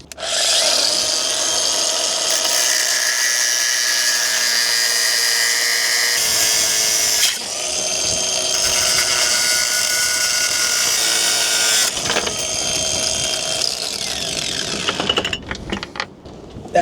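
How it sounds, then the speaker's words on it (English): An angle grinder cuts through metal aboard a sailboat, giving a loud, close, steady high whine and gritty hiss that runs almost unbroken for about fifteen seconds, with brief dips in load before winding down at the end; no one speaks. "it's just cutting it with the angular grinder"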